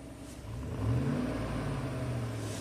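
GM truck engine, with its mass airflow sensor giving no signal, revving up smoothly from idle in a short close rise and hold, with no voices.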